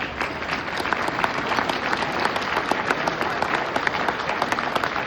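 Sustained audience applause at a Marine Corps birthday celebration, as family members of Marines stand to be honored; dense, steady clapping from a large crowd fills the whole stretch without a break.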